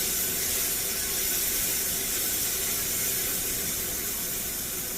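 A steady, even whoosh of a kitchen range hood fan runs throughout, a continuous airy hiss with no pauses and no voices.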